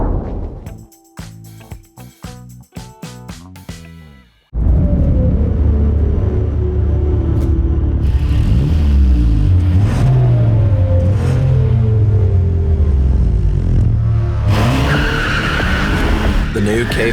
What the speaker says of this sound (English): The new K5 GT beats the BMW 330i in slaloming, cornering, and acceleration.